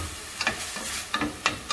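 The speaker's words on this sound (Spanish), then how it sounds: "le vamos a revolver el pollo y un poquitito de caldo en el que cocimos el pollo" Chicken being stirred in a pan with a splash of its own cooking broth for enchiladas, giving a few brief scraping clacks of the spoon against the pan over a soft sizzle.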